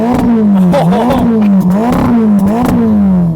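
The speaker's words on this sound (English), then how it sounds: "Oh yeah, let's have some revs." Ferrari Roma engine revving hard and close, a loud, steady growl swelling and dipping through several quick throttle blips with clattery mechanical edges.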